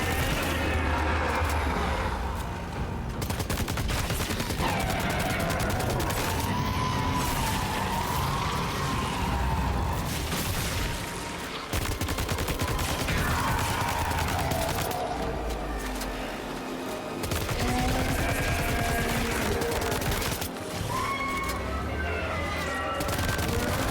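Assault rifle gunfire in a video game rattles out in rapid bursts and sustained volleys over roughly twenty seconds. The shots are loud and dense, with brief pauses between strings of fire and a steady game soundtrack underneath.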